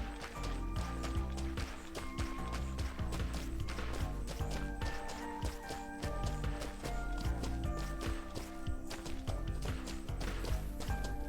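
Rapid rhythmic hoofbeats of a horse in the video game Mortal Online 2, a steady galloping clip-clop close by and continuous, with faint background game sound.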